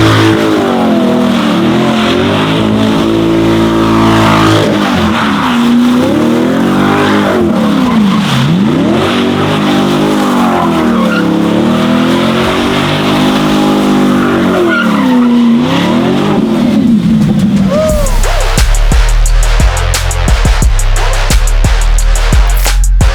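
Chevrolet Corvette spinning donuts, its engine revving and falling in long loud sweeps while tyres squeal and skid continuously, ending in a harsher burst of noise.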